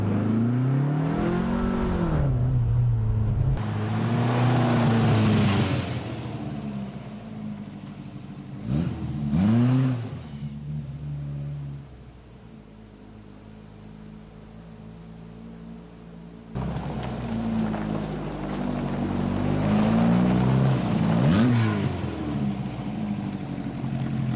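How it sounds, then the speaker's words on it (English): Volkswagen Beetle fitted with a Type 4 engine accelerating on the road, its mid-pitched engine rising through repeated revving sweeps, easing off into a quieter stretch, then climbing hard again, close and loud with no talk. "the Type 4 motor sure pushes this car down the road"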